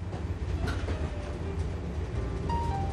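The Canadian passenger train rolling along the rails from Kamloops toward the Fraser River Canyon, a steady low rumble with rhythmic wheel clatter and faint squeals, continuous and fairly close, with no voices.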